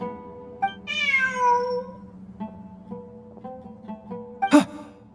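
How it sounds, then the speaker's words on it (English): Cat meowing in the video game Ruins Explorer, a single drawn-out, clear meow near the start, followed by soft game sounds and a brief sharp effect near the end. "Look! A cat!"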